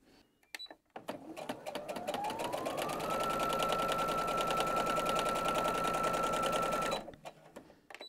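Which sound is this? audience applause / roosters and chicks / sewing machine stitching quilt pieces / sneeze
sewing machine stitching quilt pieces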